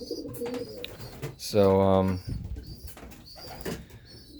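A racing pigeon in a home breeding loft gives one clear, close coo of about half a second, set between stretches of someone talking nearby.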